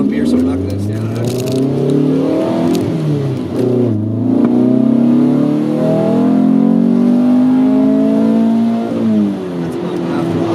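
A 1983 VW Rabbit GTI engine pulls at half throttle on a bumpy road, its loud, close drone climbing steadily in pitch through several gears with brief dips between them.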